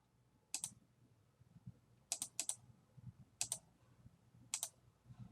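Clicky presses on a computer keyboard, probably the enter key, come as five short sharp taps, some in quick pairs, faint and near against a quiet room.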